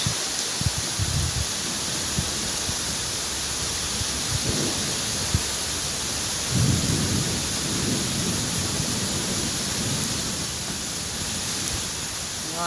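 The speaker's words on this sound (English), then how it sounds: "I don't know how it could rain any harder." Heavy rain pours down in a dense, steady hiss while low thunder rumbles roll in and out several times, a torrential downpour heard close and continuous.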